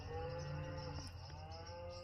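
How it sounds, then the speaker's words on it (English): Cows in a field give a drawn-out, low moo that carries on for a couple of seconds, fairly faint and distant against quiet outdoor background. "the cows are mooing and they know something's going on"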